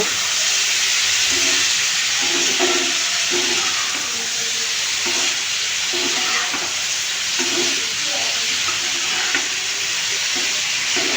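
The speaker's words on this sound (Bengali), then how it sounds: "এখন ভালো করে নেড়ে চেড়ে মিশিয়ে নিব" Potatoes frying in a pan are stirred with repeated rhythmic scraping strokes over a constant loud sizzle and hiss, close up with no talking.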